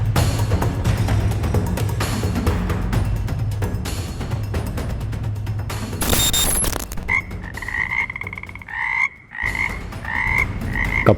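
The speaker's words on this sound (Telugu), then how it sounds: "కప్పలు చూసిరా ఎట్లా అమ్ముతున్నారో" Frogs croak loudly and rapidly in dense rattling bursts at a Bangkok meat market where live frogs are sold, with clanking market noise mixed in and a run of higher, evenly spaced croaks near the end.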